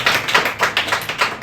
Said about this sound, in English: Clap for Rudra.